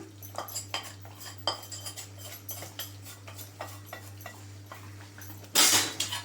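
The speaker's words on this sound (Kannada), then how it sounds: "ಸೇರಿಸ್ಕೊಂಡ್ಬಿಟ್ಟು ಚೆನ್ನಾಗಿ ಮಿಕ್ಸ್ ಮಾಡಿಬಿಡೋಣ." A spoon clinks against a pot as cashew and raisin tempering is stirred into Koodarai Vellum, sweet rice and milk with ghee. The taps come in a light, irregular rhythm over a steady hum, ending in a louder scrape.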